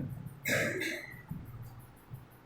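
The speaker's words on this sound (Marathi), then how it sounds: "काय झालं, खोकला आला काय, पाणी पिऊन घ्या" One short, harsh cough, fairly faint, then quiet with a few soft low rustles.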